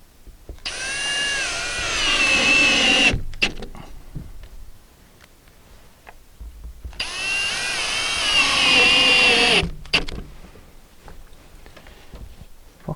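Power drill driving screws into a replacement window frame set in a stucco wall, two sustained high whirring bursts of about two and a half seconds each, close and loud, separated by quieter shuffling.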